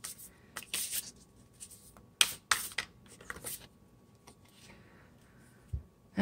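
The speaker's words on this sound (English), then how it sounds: "I'll give it just a little shuffle here." A few quick bursts of tarot cards being riffled and shuffled, crisp and close, separated by brief quiet gaps with small handling clicks.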